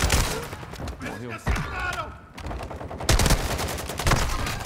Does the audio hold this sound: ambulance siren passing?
no